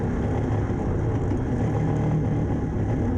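An ATV engine labours and bogs on a frozen lake, a dense low rumbling drone that stays loud and steady throughout with no voices.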